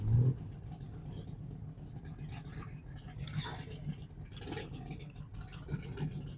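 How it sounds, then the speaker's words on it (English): Steady low rumble of cars passing along a road near an outdoor market on a hot morning, a continuous traffic drone with occasional louder swells from nearby vehicles. "It's going to be really loud from the cars."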